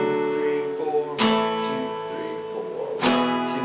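Strummed acoustic guitar chords of a song's intro, two strong downstrokes ringing out with lighter strums between, steady and full, no voices.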